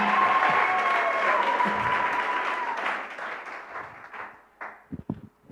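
A church congregation cheers and applauds during a service: dense clapping and voices hold for about three seconds, then fade to a few scattered claps.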